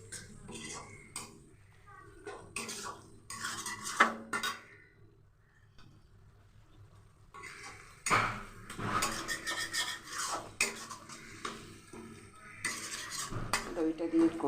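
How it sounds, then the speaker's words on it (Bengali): Chicken masala with yogurt just added gets stirred in a pan, with intermittent scraping and clinking of a utensil against the metal, bursts of activity separated by quieter pauses, close by with faint background noise. "আমি দিয়ে দিলাম দইটা একটু আরেকটু কষিয়ে নেব"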